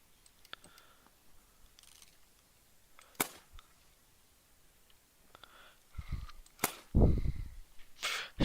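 A shotgun fires in a video game with a few sharp, dry cracks spread over several seconds, mixed with smaller clicks and mechanical clatter, fairly faint overall.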